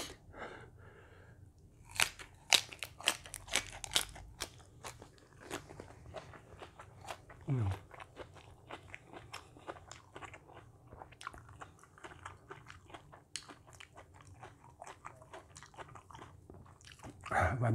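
Crunchy fresh shrimp larb with chillies being chewed up close, a long run of sharp irregular bites and crackles with quiet gaps, loud and alone without talk.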